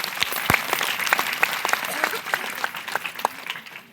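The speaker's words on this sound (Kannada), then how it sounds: "ಚಪ್ಪಾಳೆ ತಟ್ಟು ನೋಡೋಣ." Audience at a religious discourse gathering clapping together in a steady, sustained round of applause, with a few louder individual claps near the start and a crowd murmur throughout.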